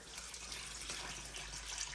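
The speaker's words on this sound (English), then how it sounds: "let's just give this some water" Plants being watered from a water butt, a soft continuous gushing splash of water over a low steady hum, quiet and close, with no voices.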